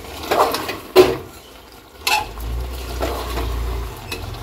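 Mutton with whole garlic cloves stirred and braised in a pot, heard as a few sharp metallic clanks and scrapes of a spoon against the pot over a low, steady simmering rumble, with no talking.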